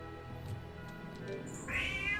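Cat in Tales of Vesperia giving a short meow near the end, clear and fairly close over a quiet game background.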